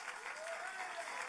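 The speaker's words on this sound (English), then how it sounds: "Please, a round of applause." A crowd at a final political rally for the Progressives and the Alliance claps briefly, a soft, distant patter of applause that holds steady for a moment.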